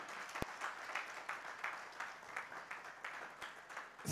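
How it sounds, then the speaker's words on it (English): An audience applauds after a keynote address at a financing conference, a dense, continuous patter of many hands, fairly faint and distant in a large hall. "I think she deserves a larger round of applause."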